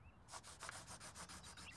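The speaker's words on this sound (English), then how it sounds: "Or like pencils on paper?" Pencils scratching across paper in a quick series of about a dozen rhythmic rubbing strokes, steady and moderately close, with no talking.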